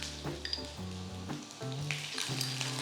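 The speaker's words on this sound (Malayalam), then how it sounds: "ചൂടായ എണ്ണയിലേക്ക് 1/4 ടീസ്പൂൺ കടുക്, അതുപോലെ തന്നെ കുറച്ച് കറിവേപ്പിലയും കൂടെ ചേർക്കാം." Mustard seeds, curry leaves and chopped garlic sizzling and crackling in hot oil for a keema peas masala, a steady close fry with scattered pops and stirring, no talking.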